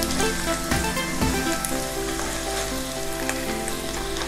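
Chicken pieces sizzle in a little hot oil with sofrito for pollo alla cacciatora, a dense, loud, continuous frying hiss that sounds like rain, with a couple of faint knocks early on.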